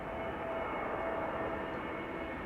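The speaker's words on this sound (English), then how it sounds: "This is EasyJet A320 arriving from Palma de Mallorca, A320neo." An EasyJet Airbus A320neo arriving at Amsterdam Schiphol from Palma de Mallorca gives a steady, continuous engine roar with a faint high whine, even and unbroken, heard from nearby with no voices.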